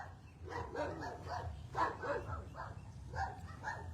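A dog barks several times in short, irregular bursts at moderate distance, fairly faint, with quiet background noise between barks.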